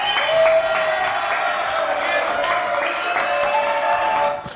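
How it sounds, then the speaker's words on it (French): Studio audience applause on a French television talk show, a dense steady wash of clapping that stays loud and even for several seconds before cutting off abruptly. "Applaudissements."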